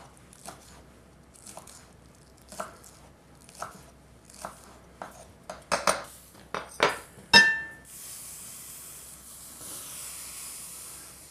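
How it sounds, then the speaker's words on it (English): A pot on an outdoor barbecue grill, where beaver is being cooked, boils over. A run of sharp clinks and knocks gives way to a sudden steady hiss of steam and spattering that carries on to the end. "We're going to have a boil over."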